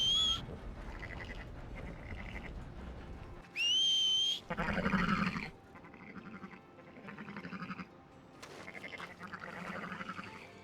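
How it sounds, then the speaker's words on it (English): A sharp, rising whistle in Red Dead Redemption 2 is blown to rouse sleeping animals. It is one brief burst near the middle, with bleating livestock-like animal calls before and after it. "You can wake sleeping animals by whistling."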